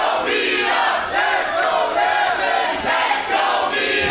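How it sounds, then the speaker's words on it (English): A wrestling arena crowd roars and shouts continuously during an intergender tag team match, a dense, loud wall of voices with swelling surges of chanting. "crowd, as always, as they have done throughout tonight, making their feelings known"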